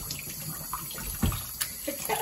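Tap water runs into a kitchen sink while dishes and eggshells are rinsed, a steady faint wash with a few soft clinks and splashes close by.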